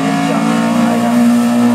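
Race car in the up-to-2000 cc class at the St. Agatha hill climb, a loud near engine holding a steady high revving tone as it passes, brief and without speech.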